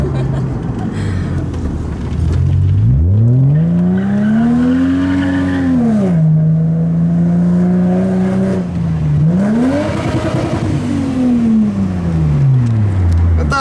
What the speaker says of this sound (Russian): Я еду с двумя девушками на марке боком.